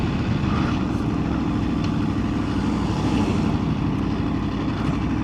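A 2025 Aprilia Tuono 1100 Factory motorcycle ridden at a relaxed pace, its engine a steady, continuous low rumble mixed with wind noise throughout, no speech.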